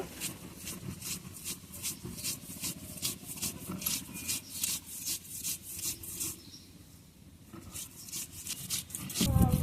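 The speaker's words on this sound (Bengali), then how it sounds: "এখন পেঁয়াজটা বেটে নেব।" Onion being ground into paste on a flat grinding stone for dried-fish bhorta, a quick run of rhythmic rasping strokes, close and regular, ending in a louder scrape.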